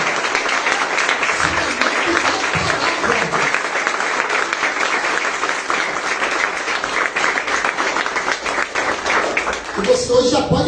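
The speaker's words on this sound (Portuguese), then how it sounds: "Você pode aplaudir Jesus por isso" A church congregation applauding at a teaching service, sustained dense clapping from a full crowd filling the room for about ten seconds, with voices mixed in.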